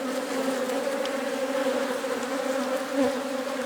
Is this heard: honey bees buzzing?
yes